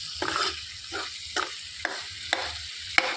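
Rajma curry mixed with mashed potato being stirred in a pan: five or six rhythmic scraping strokes of a spoon against the pan, close and clear, with no talking.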